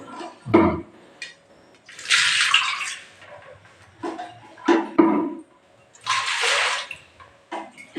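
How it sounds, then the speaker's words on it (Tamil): Water poured into a container in a home kitchen while preparing idli chutney, two longer splashing pours between short taps and clinks of utensils, close and clear. "எத்தனை டம்ளர் தண்ணி ஊற்றணும்"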